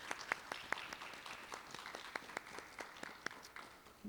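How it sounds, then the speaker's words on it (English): Sparse, faint clapping at a nursing pinning ceremony, scattered individual claps in an irregular rhythm from a small audience, fairly distant and quiet. "can we give them all a big round of applause for their accomplishments?"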